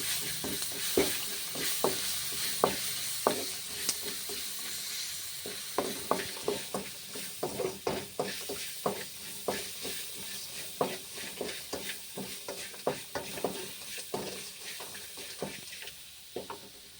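Lemon rice ingredients with turmeric being stirred in a frying pan, a soft sizzle under repeated scraping knocks of a spoon against the pan, close and fairly quiet.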